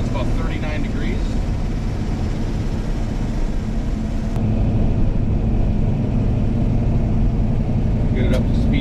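A 1971 Dodge Charger two-door hardtop engine drones steadily on a test drive on a brisk, cold Minnesota day, in third gear getting up to speed. The loud, continuous low rumble holds even throughout, and a voice talks over it.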